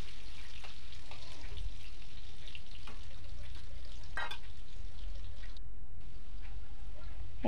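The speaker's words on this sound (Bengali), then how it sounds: "এবার দেখো এদিকে আলুগুলো ভাজা হচ্ছে" Potatoes with turmeric sizzle and fry in a pan, a steady close hiss with occasional stirring scrapes and small clinks throughout.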